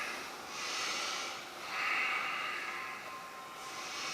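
Quiet, breathy inhales and exhales from people doing deep breathing in a yoga class for veterans and seniors, several soft swelling breaths in sequence with no talking.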